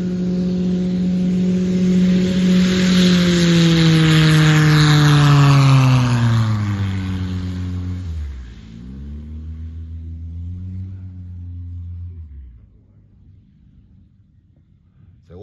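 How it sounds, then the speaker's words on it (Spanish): A STOL CH 750 Super Duty airplane's turbo engine in Mexico roars with a loud, steady droning hum that slides downward in pitch, then a second, quieter engine pass rises and fades toward the end. "Oigan el turbo de ese avión."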